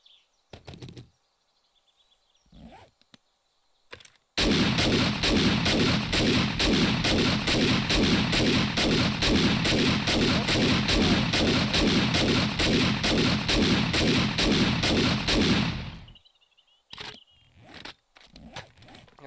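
Automatic gun from 7 Days To Die, a tier 6 weapon at 300 rounds per minute with a 32-round magazine, firing one long unbroken burst of rapid, evenly spaced loud shots, with short bursts of other noise before and after.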